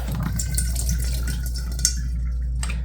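An RV bathroom faucet lets a thin stream of water trickle into the sink, a soft continuous splash with faint drips over a low steady hum, close by.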